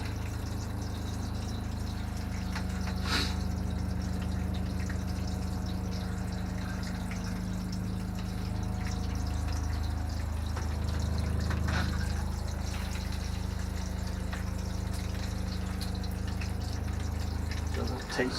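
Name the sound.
water running from RV shower head after opening valves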